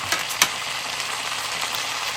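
A spoon stirs a thick nacho dip of salsa and refried beans in a bowl, giving soft wet squelching and scraping with a couple of sharper clicks, close and fairly quiet.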